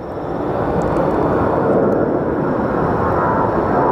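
A heavy airplane at Phoenix Sky Harbor Airport roars past, a loud, steady, broad engine rumble that swells slightly and holds without any talking.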